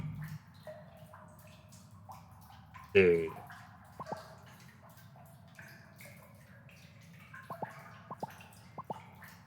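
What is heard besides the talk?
sewer water dripping in a video game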